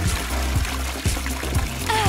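Water pours into a tabletop fish tank, trickling and splashing with a rhythmic gurgle repeating every half second or so, close and fairly loud, with a brief rising whistle-like tone at the end.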